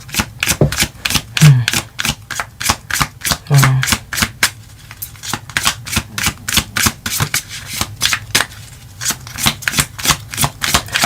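A tarot card deck being shuffled close up, a long run of quick crisp riffling bursts in steady rhythm with brief pauses, a voice murmuring once or twice underneath.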